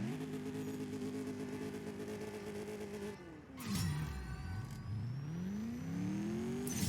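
A Mercedes-AMG S63 Coupe on a dyno run in CSR2 holds a steady engine drone, then cuts off and revs back up through rising gear sweeps with whooshing shift bursts, loud and close.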